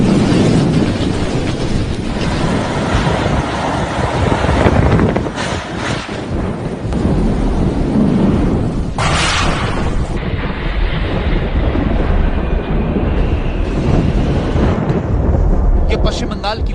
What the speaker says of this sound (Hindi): ये शोर है उम्पुन तूफान का